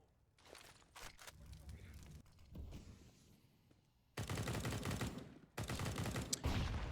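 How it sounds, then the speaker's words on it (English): Counter-Strike gunfire during a G2 versus Natus Vincere match, heard as faint scattered shots and footsteps, then two loud sustained bursts of rapid fire through smoke, with a commentator talking throughout. "fires off bullets through the smoke"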